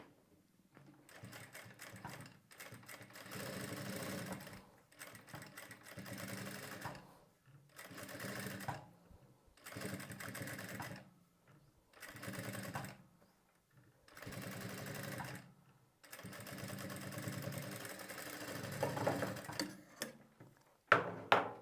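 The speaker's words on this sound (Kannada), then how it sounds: "ಈ ಪೈಪಿಂಗ್ ಪಕ್ಕದಲ್ಲಿ ಲೈನಿಂಗ್ ಮೇಲೆ ಹೊಲಿಗೆನ ಹಾಕ್ಕೊಳ್ಬೇಕು" A sewing machine stitches along lining fabric next to piping in bursts of rapid, close mechanical whirring separated by short pauses, with no talking.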